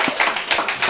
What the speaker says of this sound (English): Give your own selves a hand clap.